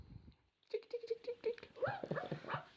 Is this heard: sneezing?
no